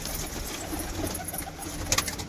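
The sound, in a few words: pigeons cooing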